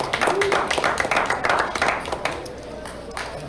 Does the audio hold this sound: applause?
yes